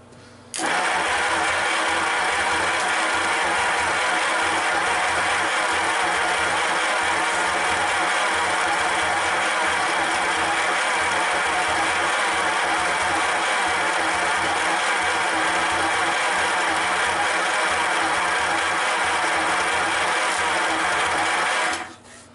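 An American LaFrance fire engine's Lycoming V-12 runs loud and close after its first start in years, a dense, steady idle roar that holds unbroken for about twenty seconds with no voices.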